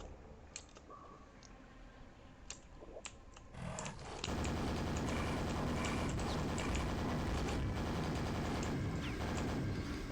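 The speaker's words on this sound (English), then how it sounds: "Super nail gun does make short work of them things, which is very handy." Rapid automatic nail-gun fire in the first-person shooter Quake, a dense continuous loud barrage after a few scattered shots, with no talking over it.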